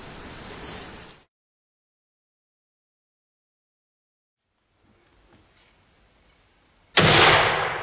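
A .223 rifle round fired at a hog: a loud, broadband burst cuts off abruptly into silence, followed by faint rustling and then a second loud sharp blast near the end, close to the microphone.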